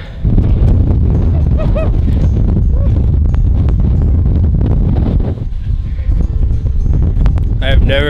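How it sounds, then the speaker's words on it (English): Fierce winter wind on the Isle of Skye, Scotland, roars and buffets the microphone in a loud, continuous low rumble for the whole stretch, briefly easing near the end, with faint voices in the background. "Never experienced wind like that."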